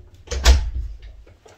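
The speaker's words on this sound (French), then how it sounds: "Je te laisse fermer la porte." A door swings shut indoors with a single soft thud at moderate distance, followed by faint rustling and a light click in an otherwise quiet room.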